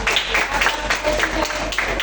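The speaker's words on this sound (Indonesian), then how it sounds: "Tepuk tangan sekali lagi dong." A classroom audience of children claps together after being asked for another round, a dense, steady patter of hands that fills the room for about two seconds.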